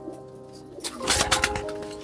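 A Saharanpuri cross pigeon, a champion racing bird from Jaipur, gives low, soft cooing tones up close, followed by a burst of rustling, flutter-like noise, with no talk over it.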